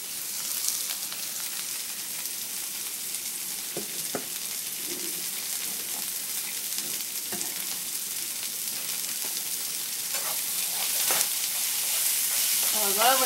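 Onions frying in a skillet, a steady close sizzle and crackle with occasional louder pops and stirring, no talking.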